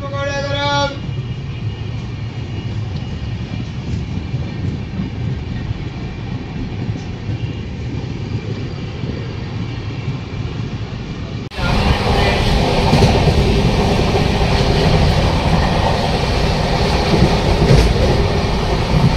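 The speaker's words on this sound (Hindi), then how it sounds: "नीलांचल एक्सप्रेस का प्लेटफॉर्म नंबर 1 से हाथरस जंक्शन के डिपार्ट हो चुका है।" The Neelanchal Express pulls out of platform 1 at Hathras Junction with a steady rumble and rattle of wheels and wagons, heard from on board; it grows abruptly louder and fuller about two-thirds of the way through.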